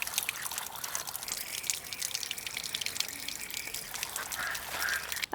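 Water poured over winged beans in a bowl to wash them, a steady close splashing trickle with faint bubbling, fairly quiet and continuous.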